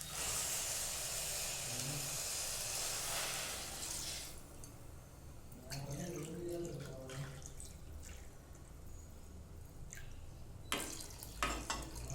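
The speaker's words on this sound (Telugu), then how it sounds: "ఇప్పుడు 2 గ్లాసులు కొబ్బరి పాలు వేసుకున్నా" Coconut milk pours into a pot of rice in a steady, hissing liquid stream for a few seconds. The pour then stops, followed by quieter trickles and several sharp clinks of a pot or glass.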